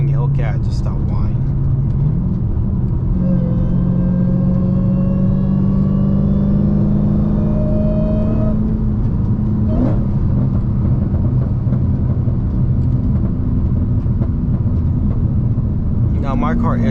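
A stock Dodge Challenger Hellcat with a JLT intake and resonator delete drives along, its steady engine drone rising in pitch as it pulls through a gear, then settling into a continuous cruising hum.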